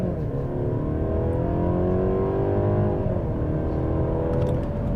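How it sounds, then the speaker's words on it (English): A 2022 Mercedes-Benz C300 4Matic launches hard from a brake-torque start, its engine note climbing loud and steady through a continuous run of acceleration with no talking. "We're going to brake torque it again. Really strong off the line."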